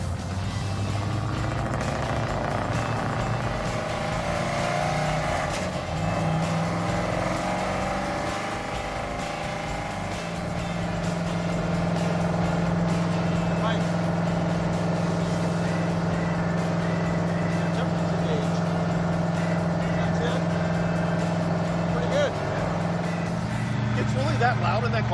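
A loud, continuous engine roar with droning low hum fills the cabin of a 1963 Chevy Impala rat rod, with people talking over it throughout.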